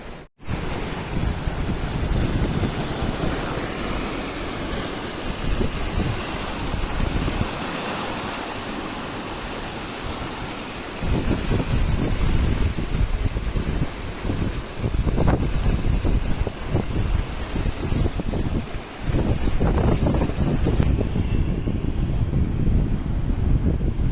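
Water flows in a continuous loud rush at a waterfall in Chandrapur district, with wind buffeting the microphone throughout and no voices.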